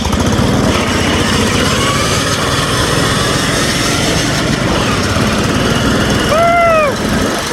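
Home-built fast racing lawn mower engine roaring steadily up close while being ridden, a continuous loud buzzing drone with wind noise and a brief rising whine near the end.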